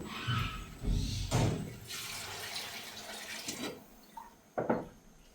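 Water poured into a hot pot of fried food, giving a splashing gush and hiss in several bursts, close by, with a couple of sharper clatters near the end and no talk.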